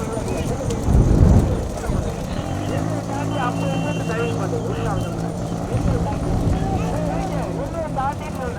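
Bulls charging at speed in a bullock cart race, their hoofbeats and rattling cart noise heard under constant loud commentary and crowd noise.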